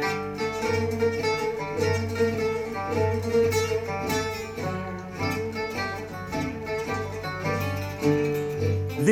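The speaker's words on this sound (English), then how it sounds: "This is the sound of gypsy jazz" Bahraini gypsy jazz blending Arabic music with swing and funk rhythms plays steadily and fairly loud, with layered melodic instruments over a driving beat and no voices.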